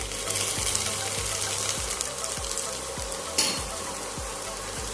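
Onion paste with onions sizzles steadily in a pan for spicy chicken kosha, a dense broadband crackle with a regular series of soft low knocks like a spatula stirring, and a brief louder burst near the middle; no voices.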